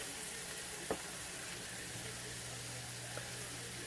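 Spinach sizzling with a little salt in a pan for garlic shrimp scampi, a soft steady hiss with a faint clink or two, no talk.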